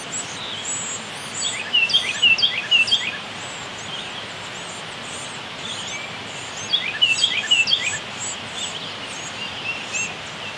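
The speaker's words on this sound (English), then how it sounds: "Can you hear the chicks?" Small bird chicks call from nearby in two bursts of high, thin chirps about five seconds apart, over a steady outdoor hiss at a shop foundation dig site.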